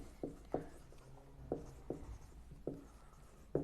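Chalk or marker strokes writing by hand on a board during an income tax lecture, a series of short scratchy strokes at an irregular pace, fairly quiet over a low room hum.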